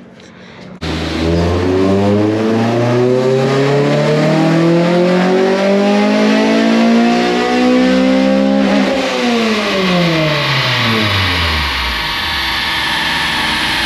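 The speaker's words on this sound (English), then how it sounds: "2000 model Honda Civic." A 2000 Honda Civic engine revving hard, a loud sustained rising roar that climbs in pitch for several seconds, dips briefly, then winds down to idle at the end, heard close up and alone.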